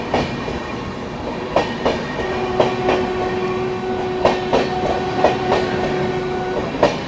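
The Bihar Sampark Kranti Express from New Delhi to Darbhanga passes alongside the Mahabodhi Express, with rhythmic wheel clacks over rail joints repeating at an even pace over a steady rumbling hum and a faint sustained tone, and no voices.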